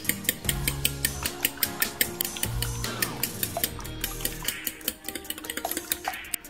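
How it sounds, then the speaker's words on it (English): Eggs are whisked in a bowl, rapid rhythmic clicking and tapping against the sides, steady and close, speeding into quicker strokes toward the end. "Whisk the egg with a fork or use the hand whisk,"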